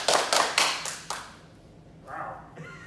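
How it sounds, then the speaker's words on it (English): Five sharp hand claps in a quick, slightly uneven rhythm, close and loud, followed by a quiet gap and then a brief murmur. "Can we get a sound, like a clapping sound in the background?"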